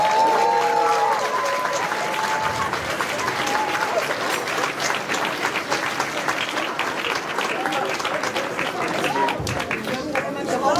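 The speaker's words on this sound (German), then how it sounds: "Applaus" Sustained applause from a crowd at an outdoor protest rally against the shift to the right in Münster-Gievenbeck, steady dense clapping mixed with cheers and chatter for over ten seconds.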